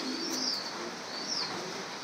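Ornamental Kolkata color pigeons give soft, low coos and a few light chirps, close by. The calls come in short, gentle bursts over a steady background hiss.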